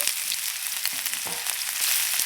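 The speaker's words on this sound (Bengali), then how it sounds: "দিয়ে দেব পেঁয়াজ কুচি কাঁচামরিচ কুচি" Chopped onion and green chilli hit hot oil in a pan and fry with a loud, dense crackling sizzle, close up and steady throughout.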